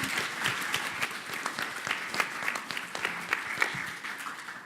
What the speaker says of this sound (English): I think it deserves a little round of applause.